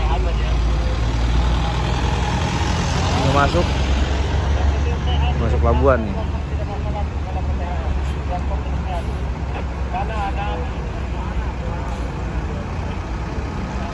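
Buses and other vehicles idle and rumble at the Merak port entrance during the holiday homecoming exodus, a constant low engine drone with someone talking over it.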